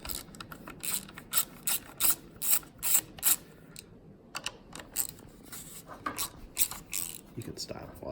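Sharp, rapid ratchet clicks come in short bursts as a wrench backs out T30 Torx screws from a GM steering column. The clicking is close and crisp, with pauses and quieter handling noise between bursts.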